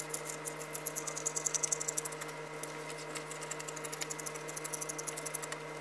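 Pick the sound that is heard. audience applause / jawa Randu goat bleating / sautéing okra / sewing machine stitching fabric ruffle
sewing machine stitching fabric ruffle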